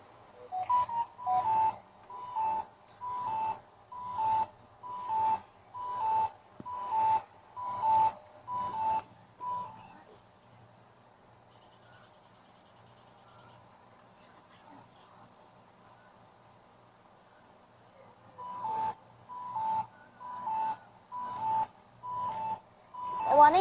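Car overheat warning buzzer from an in-car temperature alert system beeping in a steady, evenly spaced series of electronic tones, pausing for several seconds before the regular beeps resume, loud and close.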